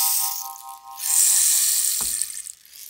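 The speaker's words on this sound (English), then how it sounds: "Rain stick" A rain stick's steady hissing rattle of tiny pellets pouring through a tube, rising and falling gently for a few seconds.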